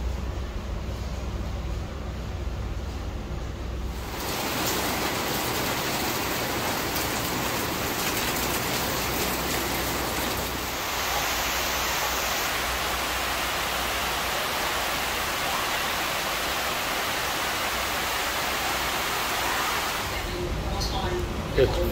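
Heavy rain pours steadily at a beach resort on Sentosa, Singapore, a dense continuous hiss that swells louder partway through and holds at a constant downpour.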